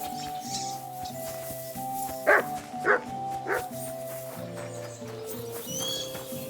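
A dog in Kingdom Come Deliverance 2 gives three quick barks at a steady pace, set a little back against a droning music and ambience bed, with no talk.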